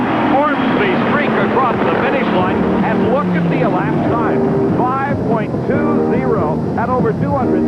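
Drag racing cars at the 1987 NHRA Keystone Nationals in Reading, Pennsylvania, roar down the strip with a sweeping, falling engine howl and a continuous loud rumble, while a commentator talks over the noise throughout.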